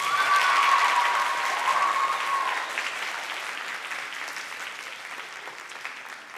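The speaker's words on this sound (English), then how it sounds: "I think she deserves another round of applause." A school winter concert audience gives a performer another round of applause: a sustained wash of clapping that starts loud and gradually tapers, with a faint tone lingering underneath at first.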